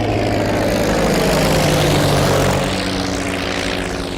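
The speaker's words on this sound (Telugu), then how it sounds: "ఏదేమైనా ఫస్ట్ టైం ప్రైవేట్ ఫ్లైట్ ఎక్కినందుకు చాలా హ్యాపీగా ఉందిరా." A small private propeller airplane drones loudly and steadily from inside or close by, its engine hum constant with a slight easing toward the end.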